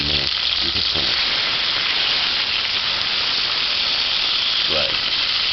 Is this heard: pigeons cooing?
no